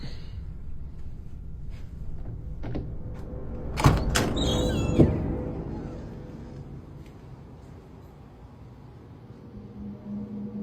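A door being opened in a quiet room, heard as a couple of sharp clunks and a latch-like clatter a few seconds in, followed by fading rustle and low background hum.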